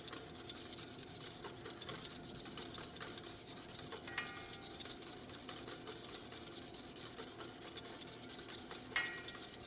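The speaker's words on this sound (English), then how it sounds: "start with my side-to-side motion with my whisk, a few drops of oil in" A whisk beats garlic and oil into aioli by hand in a mixing bowl, making a steady, close scraping swish that runs without pause for the whole stretch, with no talking.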